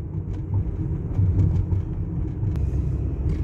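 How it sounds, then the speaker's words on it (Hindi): Steady low rumble of a car cruising smoothly on the road in Riyadh after an engine oil change, continuous and fairly quiet, with no talking. "अभी गाड़ी स्मूथ चल रही है"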